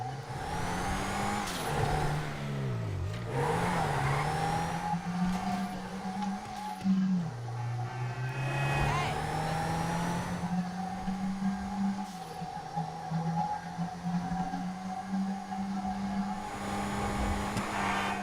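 A Declasse Rhapsody compact car driving in the video game GTA 5, a steady engine drone that shifts pitch with gear changes and throttle, with bursts of tire noise, close and continuous without talk.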